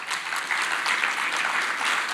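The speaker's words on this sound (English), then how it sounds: "I would want to thank as well the school choir and a big round of applause to Executive Academy." An audience applauds at a matric top achievers awards ceremony, a dense, steady wash of many hands clapping continuously throughout, with no voices standing out.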